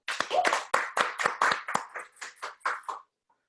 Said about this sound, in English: Everybody clap for Tempest.